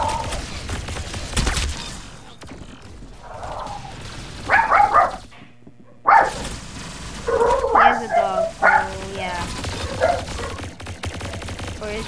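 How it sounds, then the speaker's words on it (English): A dog barks in short bursts in the background while people talk over an online game voice chat, the barks mid-level and intermittent. "Is that your dog?"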